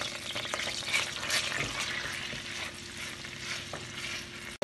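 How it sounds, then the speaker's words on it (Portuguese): Chopped onion, half an onion, sizzling steadily in a hot pan while it softens and browns for a beef stroganoff, with a brief stir partway through and no talking. "Agora eu vou adicionar uma cebola picada"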